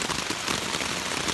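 Rain patters steadily on a furnace shelter, a dense even hiss of drops close by with no speech.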